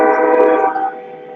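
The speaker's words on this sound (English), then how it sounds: "I love listening to the train go by." A passing train sounds a loud, sustained horn blast that fades out over about a second, heard close and alone without talk.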